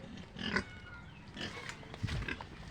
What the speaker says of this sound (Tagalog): dalawang malaking baboy yan.